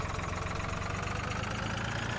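A tractor engine idles in the farming video game Farming Simulator 2013, a loud, continuous mechanical drone with a steady low throb that stays unchanged throughout.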